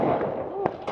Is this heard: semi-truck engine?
no